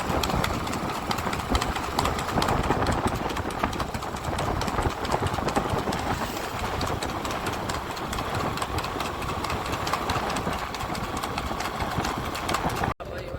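Horse hooves clip-clop at a steady trot during a horse race in Bhuj, mixed with an idling engine and excited voices talking over it throughout.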